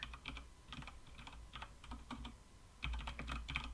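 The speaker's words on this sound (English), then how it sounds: "While Danny is typing" Typing on a computer keyboard during a podcast recording, soft irregular clusters of key clicks in quick bursts, close and fairly quiet with no talk over it.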